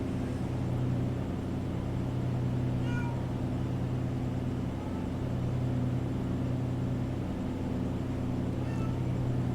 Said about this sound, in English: my cat wants to get out of the room